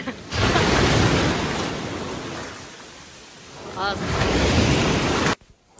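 Sea waves wash steadily onto an open beach at Chornomorsk on the Black Sea, a continuous broad roar of surf with wind buffeting the microphone before the sound cuts off abruptly near the end.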